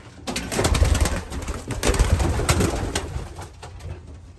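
Several pigeons, including a pair of tumblers, coo and flutter close by, their soft throaty calls overlapping continuously with rustling in the background.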